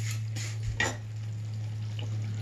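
Fenugreek powder is dry-roasted in a pan, with a soft continuous sizzle and a few scraping stirs near the start over a steady low hum.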